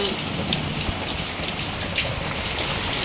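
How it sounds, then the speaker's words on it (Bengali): Heavy morning rain pours steadily in a dense, even hiss of drops striking surfaces, loud and continuous with no voices. "অনেক দিন পরে এরকম বৃষ্টি দেখছি"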